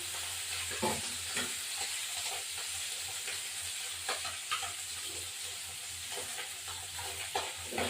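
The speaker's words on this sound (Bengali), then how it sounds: "একটু কালো দিয়ে ফোড়ন দেবো" Kalonji (nigella) seeds sizzle in hot oil left over from frying tilapia, a steady close hiss with occasional small pops and crackles running throughout, no voices.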